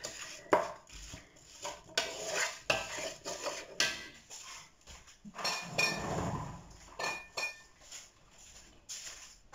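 Spices with cardamom being mixed in a pot while cooking Moroccan couscous with seven vegetables, heard as repeated metallic scraping and clinking of a utensil against the pot, close and fairly loud, with no talking.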